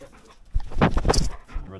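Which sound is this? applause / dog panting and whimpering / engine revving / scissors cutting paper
dog panting and whimpering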